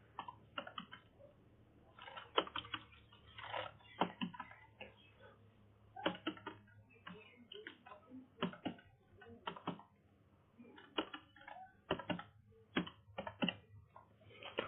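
Keys clatter in irregular bursts as someone types an email address on a computer keyboard, with close, crisp clicks and short pauses between runs over a faint steady hum.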